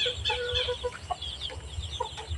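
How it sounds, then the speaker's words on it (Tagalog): A chicken on a farm clucks in short, repeated bursts, fairly near but soft, with faint outdoor background noise. "Itong manok ko mga kaburakday."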